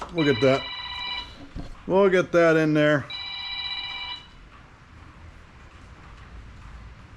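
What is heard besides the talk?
telephone ringing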